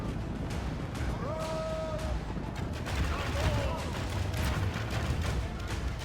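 Elven archers firing into Rhudaur clansmen in a Total War battle: a constant crackle of volleys and battle clamor throughout, with a few brief horn-like tones rising over the din.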